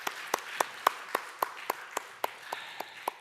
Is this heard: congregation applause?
yes